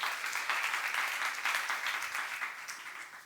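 Applause from a church youth congregation during a sermon, steady hand clapping filling the room, fairly even and moderately loud before gradually easing off.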